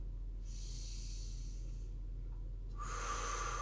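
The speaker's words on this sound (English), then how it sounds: "breathing in slowly and deeply," Slow, deep human breathing during a self-treatment exercise, drawn in through the nose and pushed out through the mouth; two long airy breaths sound close up over a low hum, with no talking.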